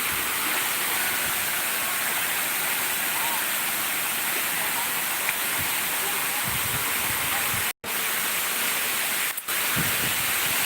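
The Lembah Anai waterfall roars as a loud, steady broadband rush of falling water, continuous and close, with one brief dropout near the end.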